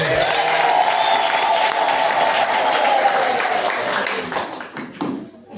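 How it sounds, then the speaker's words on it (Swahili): A church congregation clapping in praise, a thick wash of applause with a held vocal tone over it, steady and loud before thinning out and fading in the final second. "Wote tumupigie Bwana makofi."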